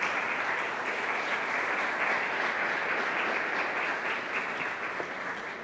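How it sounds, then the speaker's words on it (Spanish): A church congregation applauds in praise during a sermon on Jesus' seven last words, a dense, steady wash of many hands clapping that holds for the whole stretch and eases slightly at the end. "Denle un aplauso al Señor."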